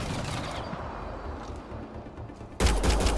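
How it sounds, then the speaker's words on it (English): Rapid bursts of sci-fi weapon fire in Mass Effect Andromeda, a dense, rattling volley that thins out mid-way before a louder, harsher burst at the end. "Will you stop shooting me?"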